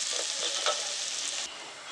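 Onion frying in a pan for fish biryani, a dense, steady hiss of close sizzling with faint stirring touches, loud and continuous before dropping slightly softer near the end.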